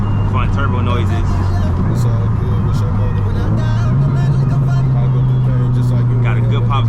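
A Stage 3+ Subaru WRX STI engine drones steadily and loudly, pitch shifting as it revs between gears, with a whooshing turbo whine and chatter faintly underneath.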